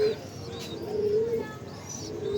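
Pure Basra breeder pigeons coo in a loft, low drawn-out rolling coos repeating close by, with faint higher chirps in the background.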